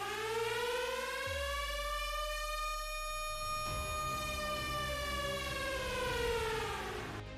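Air raid sirens wail during missile and drone attacks in the Gulf conflict, holding long rising and falling tones loud and steady. They sound distant and echoing, with a low rumble underneath and no voices.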